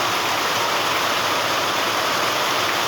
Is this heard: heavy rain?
yes